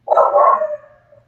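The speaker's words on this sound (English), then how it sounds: "Sorry about my dog." A single dog bark, a loud yelp-like bark with a short trailing howl, close and alone with no talk over it.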